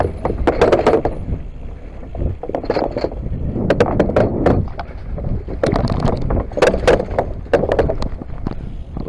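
A bicycle rolls over bumpy, loose wooden boards, producing a series of irregular loud clattering knocks and rattles, with gusty wind noise buffeting the microphone throughout.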